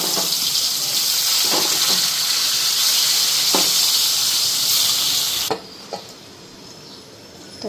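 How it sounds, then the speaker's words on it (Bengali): Food frying in a hot pan in a home kitchen, a loud continuous hiss with occasional clinks, cutting off abruptly to quiet room tone near the end. "তো এখন এদিকে ভাজাটা করে নিই।"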